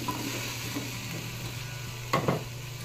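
Coconut milk stew with string beans and squash is stirred in a frying pan, a steady close sizzle with soft scraping strokes and a couple of sharper utensil knocks near the end.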